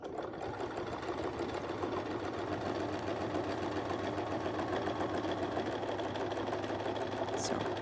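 Sewing machine stitching a quilt along Westalee Curly Q rulers, a steady, fast mechanical hum and rattle running without a break.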